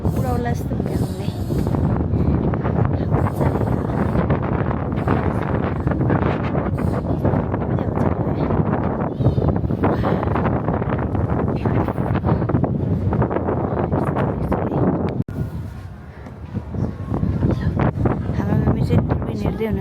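Strong wind buffets the microphone on a hilltop climb near Chandragiri, a loud continuous rumble that dips briefly near the end, with people talking faintly beneath it.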